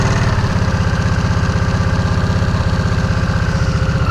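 A Harley-Davidson Nightster motorcycle engine idling after being started, a steady, evenly pulsing low rumble, close and loud throughout with no voices.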